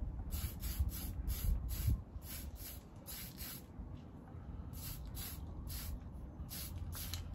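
Spray can misting paint onto model car engine parts for a Revell 1937 Ford Pickup kit, short rhythmic hissing bursts in quick succession, a pause, then another run of bursts, with faint handling noise underneath.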